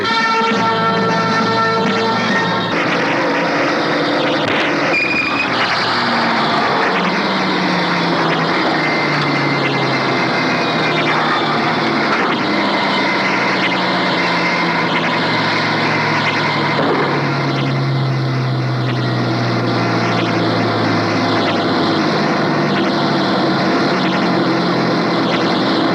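A Mohawk Airlines propeller airliner takes off, its loud engine roar building and holding steady for a long stretch as the pitch shifts downward while it climbs away.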